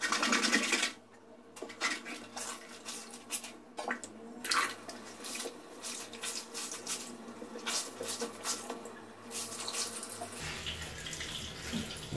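Water runs steadily from a tap while a goalkeeper glove is washed by hand at a sink, a continuous splashing hiss with scattered knocks and handling noises, close and fairly loud throughout.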